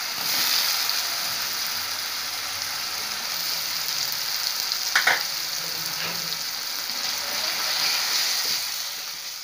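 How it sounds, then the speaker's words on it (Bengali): Chopped tomato added to a sizzling pan while cooking a shrimp kofta curry, steady loud frying hiss with a few stirring clatters, continuous and close with no voices. "এবার দিয়ে দিচ্ছি টমেটো কুচি।"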